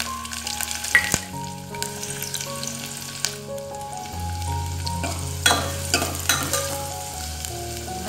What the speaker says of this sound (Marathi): आता कांदा फोडणीवर टाकून घेऊया